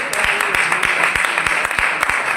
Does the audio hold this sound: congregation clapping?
yes